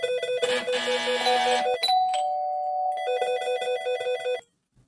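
An electronic alarm clock rings with bright, loud repeated tones in quick pulses. The ringing shifts pattern midway and cuts off abruptly just before the end.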